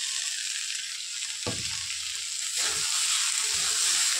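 Soft frying hiss of sago and vegetables in a pan for sabu pulao, a steady faint sizzle with a few low thumps and scrapes as the sago is tipped in and stirred, close and without talking.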